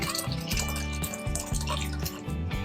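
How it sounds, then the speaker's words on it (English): Curds and whey pour through a clean tea towel into a bowl below, a close, quiet, rhythmic run of watery trickles and drips in short repeated bursts. "all I have to do is pour this into here, strain, have a bowl underneath to collect the whey"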